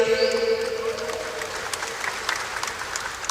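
Applause from a crowd at a formal government gathering honouring a deputy minister, with sustained clapping from many hands that runs steadily for a few seconds and fades slightly toward the end.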